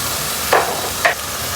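A spoon scrapes and stirs spices through bhindi masala in a pan, two distinct scraping strokes over a steady sizzling fry, close and fairly loud with no voices.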